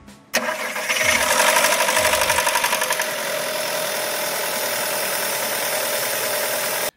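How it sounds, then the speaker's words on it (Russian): A 1.4 TSI 122 hp CAXA engine starts with a sharp crank, then settles into a loud, steady idle with a fast metallic ticking rattle most pronounced in the first couple of seconds. "Первое – это звук треска цепи 2-3 секунды при запуске двигателя."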